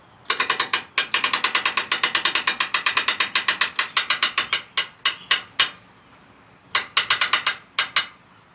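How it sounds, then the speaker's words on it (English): Cranking a Fulton trailer winch to tighten a strap sets its ratchet pawl clicking in fast, even metallic ticks that slow into spaced clicks, stop briefly, then return in a few short bursts, close and crisp without speech. "Tighten back down your strap and your winch."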